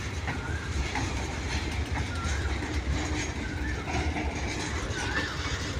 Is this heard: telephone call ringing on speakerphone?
no